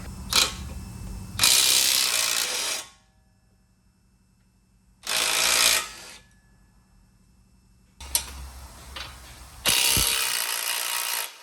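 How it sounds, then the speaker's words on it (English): A ratchet wrench loosens the ball joint bolts on a car, giving three loud, close bursts of rapid clicking separated by quiet pauses. The ratcheting is heard alone. "Gotta get these ball joint bolts out now."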